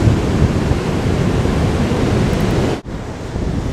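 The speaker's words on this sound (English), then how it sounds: "This is a beach that is very popular with surfers, sunbathers, even though there's no sun today, and great white sharks." Steady roar of surf washing onto a popular California surf beach on an overcast day, broad continuous wash with wind noise, a brief dip near the end, no voices.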